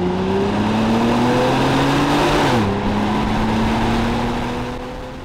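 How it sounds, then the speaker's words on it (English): Loud, steady engine drone from a 2014 Cadillac XTS Vsport sedan, the tone climbing, dipping sharply, then settling as the car accelerates, fading slightly at the end. "you can always just cut the music out altogether and listen to the engine sing"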